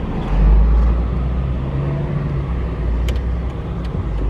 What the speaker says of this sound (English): This is the kind of traffic we're facing to trying to get out of the city